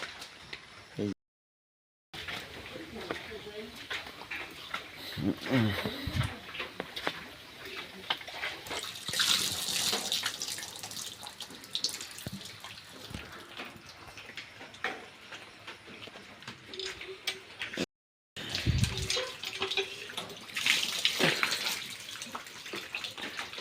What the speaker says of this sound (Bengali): তো এখন আমি মুখ ধুতেছি